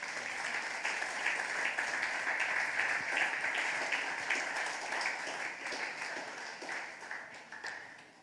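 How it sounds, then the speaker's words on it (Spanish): A church congregation clapping in praise during a sermon service, a continuous blended applause of many hands heard at moderate distance, steady throughout and fading slightly at the end. "dale palmas al Señor"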